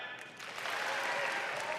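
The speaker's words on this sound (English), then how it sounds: "One loud clap," Graduation audience practising a single loud clap, heard as a broad burst of crowd clapping and noise that swells and holds, moderately loud in a large hall.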